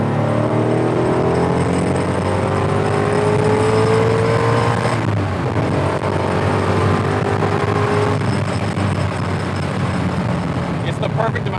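An LS V8 engine swapped into a Nissan 240sx revs hard and loud from close by, its pitch climbing and falling steadily, with voices talking over the roar.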